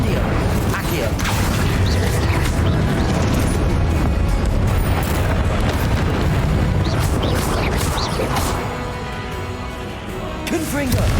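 Confringo and Incendio spells cast in rapid succession during a boss fight in Hogwarts Legacy, giving a dense, loud, continuous stream of booming blasts and crackling bursts with speech mixed in, easing slightly near the end.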